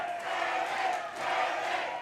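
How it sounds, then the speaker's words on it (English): A boxing crowd in a warehouse venue in Shannon roars and chants in a sustained, swelling wall of voices, rising and falling in two waves, moderately loud and somewhat distant. "The crowd getting behind Tony McGlynn right now"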